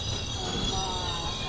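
The Telangana Express rolls into platform 1 at Ramagundam station, a continuous rumble of wheels with faint metallic squeal, heard close and steady throughout.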